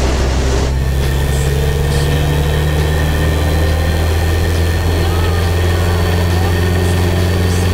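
Mooney aircraft engine powering up, a loud, steady deep drone with strong low harmonics that rises sharply after a brief quieter start and holds continuously, with faint talk over the intercom.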